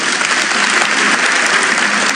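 Loud, dense audience applause at a ceremony honouring Côte d'Ivoire, steady clapping from a large crowd with no talk over it.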